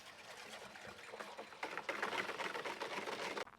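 Thick molasses pours from a bucket into a whiskey fermenter in a steady, gushing rush that swells louder midway and cuts off sharply near the end.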